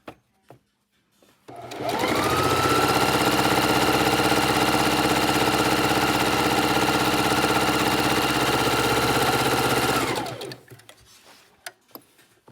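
A sewing machine stitches quilt blocks together in one long steady run, a loud, even mechanical whir that starts up after a few faint clicks, holds for about eight seconds, then winds down to quiet handling noises.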